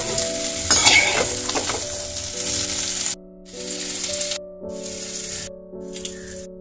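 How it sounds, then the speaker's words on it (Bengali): Cauliflower florets fry and get stirred in a pan, a loud, close, continuous sizzle with scraping stirs early on, while soft background music plays and briefly cuts out. "এভাবে ফুলকপিটা ভালো করে ভেজে নেব।"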